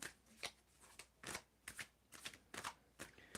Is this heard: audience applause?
no